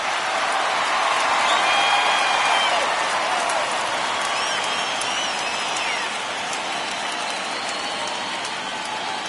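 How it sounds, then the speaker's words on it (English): Large crowd at a baseball stadium during a postseason game, a dense, steady roar of cheering and applause filling the whole stretch, swelling slightly early then holding loud, with voices mixed in. "Try and silence this crowd."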